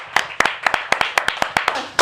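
A small group or single person claps at a student TV awards event, sharp separate claps in an uneven rhythm across two seconds, fairly close and clear, with no talking.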